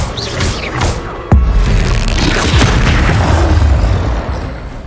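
Incendio fire spell in the Hogwarts Legacy video game, heard as a sudden close boom with a crackling burst, then sustained roaring rumble inside a busy, dense battle mix.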